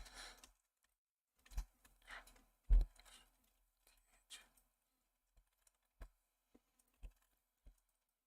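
Typing on a computer keyboard in short scattered bursts of clicks with quiet gaps between, close and fairly soft, no talk.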